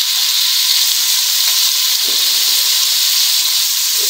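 Ginger and garlic paste with spices sizzle in a hot pan for beef trotter nihari, a loud, steady frying hiss throughout with faint crackles and no talking.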